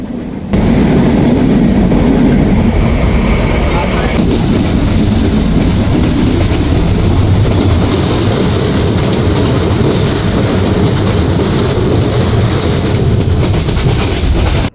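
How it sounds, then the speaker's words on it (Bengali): Chilahati Express passenger train running on rails toward Joydebpur station, a loud, continuous interior rumble with steady wheel roar and faint clatter throughout. "প্রায় তিন ঘন্টা লেটে আমাদের ট্রেনটি এখন জয়দেবপুর রেল স্টেশনে প্রবেশ করবে"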